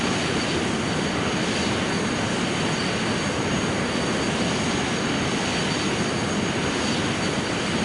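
Airliner jet engines roar steadily through a takeoff roll in Microsoft Flight Simulator, a loud, dense, continuous broadband rumble with a faint high whine, no voices heard.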